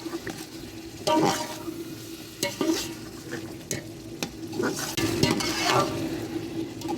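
A spoon scrapes and knocks around a cooking pot as spices such as salt, chilli, biryani masala and coriander powder are mixed into tomatoes, with several distinct scrapes and taps over a low simmering sizzle. No one speaks.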